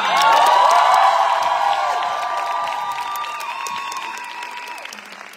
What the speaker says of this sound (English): give it up, big applause for Eva and Charlotte